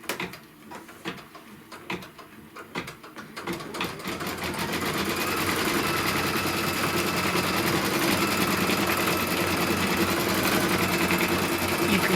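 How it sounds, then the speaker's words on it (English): An embroidery machine stitching a fabric tack-down for a pin cushion, starting with a few uneven clicks and then settling into a loud, fast, steady stitching whir that runs continuously. "we're going to lay the center piece of fabric down, and it's going to stitch the tack down"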